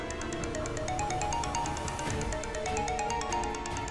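A phone ringtone plays continuously, a bright repeating electronic melody with a steady pulsing pattern, loud and close, in an Urdu-dubbed Turkish drama.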